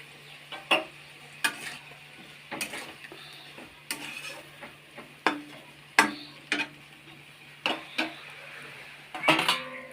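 A utensil scrapes repeatedly through vegetables cooking with water and chopped tomato in a pan, in roughly regular strokes about once a second over a faint simmer.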